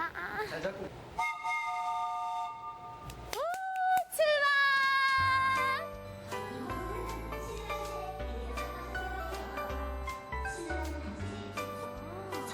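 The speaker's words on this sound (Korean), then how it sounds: "거미열차 타고 갱도 체험관으로 들어가 볼까요?" A small tourist train rattles along over a musical jingle as it enters a coal mine tunnel, a bright whistle-like toot sounding early, followed by steady rolling rumble.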